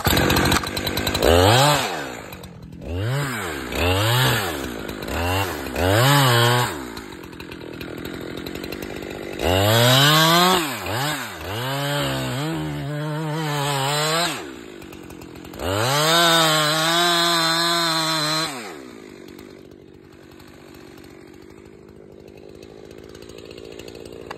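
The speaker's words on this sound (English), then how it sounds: "I'm gonna move around and finish the back cut and then wedge" A chainsaw makes the back cut while felling a tree, close by and loud, its engine rising and falling in repeated revving bursts before cutting off into quiet woodland near the end.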